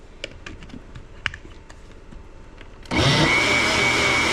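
Soft clicks and taps, then a loud kitchen blender suddenly whirs to life and runs steadily at full power until the end.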